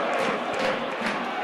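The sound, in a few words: rugby league crowd cheering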